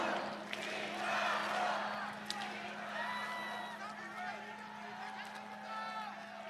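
Crowd at a political rally in Yongsan giving a politician a welcoming round of applause, a broad wash of clapping and cheering that peaks early then tapers, with a steady hum and a speaker's voice over it.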